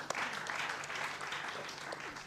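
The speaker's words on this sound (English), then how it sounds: "big round of applause for Mr." A seated crowd at a fireside conversation event at Makerere breaks into steady, sustained applause, a dense wash of many hands clapping at once.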